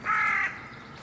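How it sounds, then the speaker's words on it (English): A crow near a graveyard beside a kindergarten in Germany gives one loud, harsh drawn-out caw close by, fading into quiet outdoor ambience. "Wow, that crow was loud."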